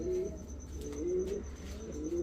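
A female Giribaz high-flyer pigeon coos in repeated low, wavering phrases, fairly quiet and close, with soft background hum and no talking.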